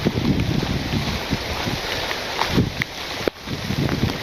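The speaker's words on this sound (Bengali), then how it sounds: "বৃষ্টি পড়তেছে, বাতাস আছে মোটামুটি" Gusty wind buffeting the microphone with rain pattering underneath in a village, a continuous rough roar with occasional louder bursts; no talking.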